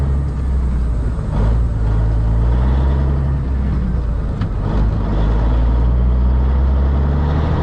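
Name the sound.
Kenworth K100E Aerodyne cabover truck driving off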